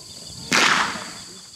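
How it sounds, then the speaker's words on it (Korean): A gaucho's whip cracks once against the ground on a ranch, a single sharp gunshot-like report that rings out loud and close, then fades into a short tail over faint background noise. "총소리와 똑같은 채찍 소리."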